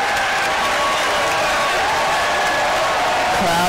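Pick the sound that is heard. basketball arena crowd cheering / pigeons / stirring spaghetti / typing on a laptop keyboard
basketball arena crowd cheering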